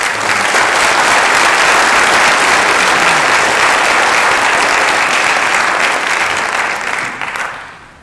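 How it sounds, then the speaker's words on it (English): A school board meeting audience gives a sustained round of applause, steady dense clapping from many hands filling the room for about seven seconds before tapering off at the end. "I'm going to ask everybody to join me in giving a round of applause for Director Hannon and the principals"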